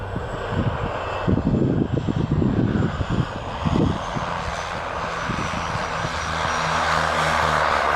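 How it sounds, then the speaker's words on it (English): Steady drone of a 78-year-old Basler BT-67, a World War II-era propeller aircraft bound for the South Pole, heard loud and continuous from nearby, with rumbling low tones and a constant engine roar. "Finally, we were able to board the 78-year-old World War II aircraft bound for the South Pole."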